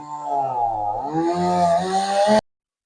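A chainsaw cuts through the trunk of a coconut palm, its engine droning and shifting pitch under load for about two seconds before cutting off abruptly.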